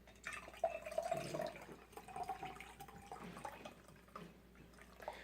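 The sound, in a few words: pouring colored salt water for a cleansing wash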